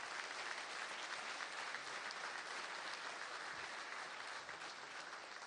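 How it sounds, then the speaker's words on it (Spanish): An audience at a Venezuelan national council installation led by President Nicolás Maduro applauds in a dense, continuous roar of clapping that holds steady and fairly distant, with no voices standing out. "pido a ustedes un fuerte aplauso"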